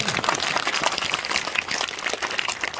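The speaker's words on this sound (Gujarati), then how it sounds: "સૌને એકવાર જોરદાર તાળીઓ" Parents clapping together at a primary school Independence Day event, a dense, steady crowd applause with no breaks, moderately loud and filling the space.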